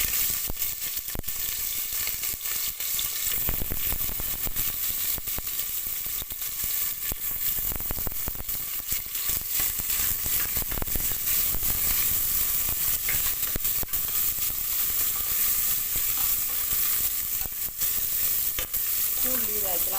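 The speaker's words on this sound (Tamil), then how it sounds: "நான் வெங்காயம் போடுறேன்" Onions fry in a pan for a country chicken curry, giving a continuous close sizzle and crackle. Faint stirring scrapes sit underneath at a steady level.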